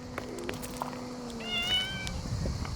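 Kittens meow in short, high, wavering cries, several overlapping calls in quick succession, close by over a low background hum.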